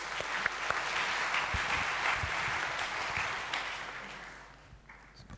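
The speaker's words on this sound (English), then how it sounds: "round of applause!" Conference audience applause at a lightning talks session, a steady patter of many hands clapping at moderate loudness that gradually thins out and fades.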